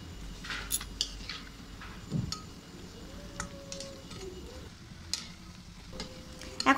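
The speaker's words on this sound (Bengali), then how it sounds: "এইভাবে উল্টে পাল্টে ভেজে নিতে হবে ব্রেডগুলোকে" Bread slices fry in oil in a wok and are flipped one by one, giving a low steady sizzle with scattered clinks and scrapes of a utensil against the pan.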